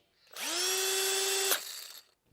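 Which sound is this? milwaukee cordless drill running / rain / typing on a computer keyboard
milwaukee cordless drill running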